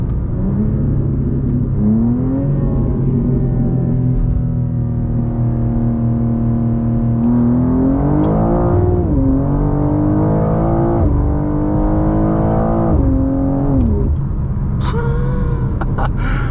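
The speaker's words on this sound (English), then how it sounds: "let's see if it hooks at 40" A BMW G87 M2 launches from 40 mph on a hot 88-degree day, its engine pulling hard through rising revs with quick shifts, loud and continuous from inside the cabin.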